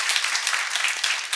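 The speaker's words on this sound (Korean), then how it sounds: "우리 감사와 격려의 박수를 돌리겠습니다" Church congregation at a New Year's Eve worship service gives a short, dense burst of encouraging applause, many hands clapping together steadily and fairly close, with no voices heard.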